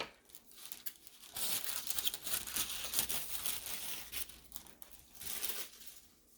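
Paper is cut and crinkled by hand while a journal cover is being made, a close series of crisp crunching and tearing rustles in short bursts with brief pauses between.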